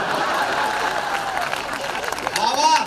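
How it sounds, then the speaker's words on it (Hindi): Audience clapping at a comedy show, a fairly light burst of applause blended with crowd murmur and a voice speaking over it, swelling slightly toward the end. "तालियां कम रह गई थोड़ी सी आपकी।"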